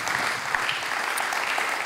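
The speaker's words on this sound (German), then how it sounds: "lass uns den Leuten einfach mal stellvertretend einen fetten Applaus geben" Audience applause fills a church service at ICF Basel: a dense, steady wash of many hands clapping at even volume for about two seconds, with no voices on top.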